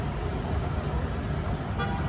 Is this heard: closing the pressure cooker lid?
no